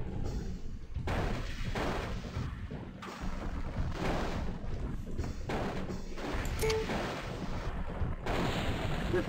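Weapons fire strikes the player's mech in MechCommander 2 as a series of heavy, rumbling impacts and blasts in irregular bursts, fairly loud and dense with brief gaps between them.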